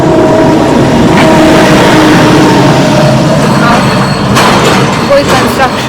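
Steady, loud road traffic roars continuously, a dense wash of passing vehicles and engines with no pauses and no clear speech.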